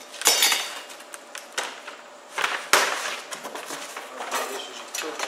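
Metal cook grate and pan of a new Traeger wood pellet grill being handled, giving a few sharp clanks and clinks with lighter rattling and scraping between, close by and fairly loud.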